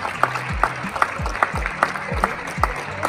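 Short bursts of clapping in a small indoor room, a few hands applauding in quick uneven rhythm, fairly close and moderately loud, with no talking.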